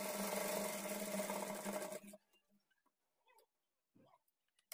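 A sewing machine stitches the darts on a blouse with a steady, fast mechanical whirr for about two seconds, then stops. A few faint clicks and handling sounds follow in near silence.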